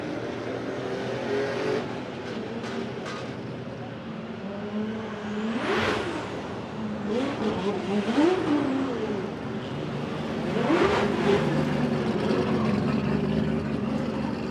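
A Mazda RX-8 race car at a competition event crawls past with a loud, rough engine drone that rises and swells as it revs, heard close with a busy crowd and track background behind it.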